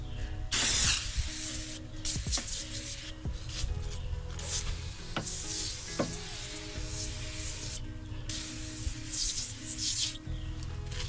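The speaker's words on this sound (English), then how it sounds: "I'm just going to spray this on there" Repeated hissing spritzes of Superclean degreaser from a trigger spray bottle, with short bursts spaced over several seconds amid rubbing and handling noise.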